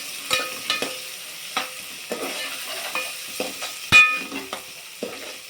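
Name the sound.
ginger, garlic and turmeric frying in oil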